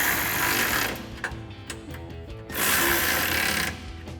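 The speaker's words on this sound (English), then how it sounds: "we'll grab a 13 millimeter socket to tighten these down" A 13 mm socket wrench tightens the bracket bolts on black 5-inch running boards for a 2019-2023 RAM 1500. Quick bursts of close ratcheting clicks come with a whirring, mechanical texture, and no voice is heard.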